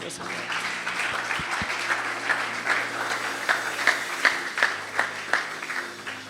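Applause at a Christian church conference: a dense wash of crowd clapping, with individual claps sharpening and growing louder toward the end, under a steady background murmur.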